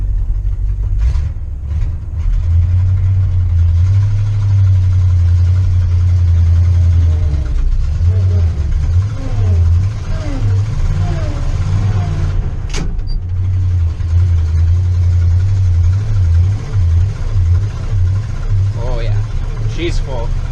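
An old five-speed truck, fully loaded, rumbles with a deep, steady engine drone that labours under heavy weight, with uneven surges and a few brief clicks and knocks over it.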